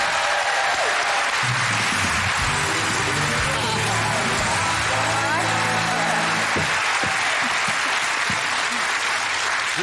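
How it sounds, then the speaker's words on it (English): A studio audience at a TV game show breaks into sustained, dense applause that holds steady for the whole stretch, with a few whoops and a voice rising faintly beneath the clapping. "Round of applause for Dwina"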